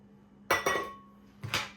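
Tabasco sauce and kosher salt are mixed together in a dish with a spoon, giving a few sharp clinks in quick succession against a quiet background.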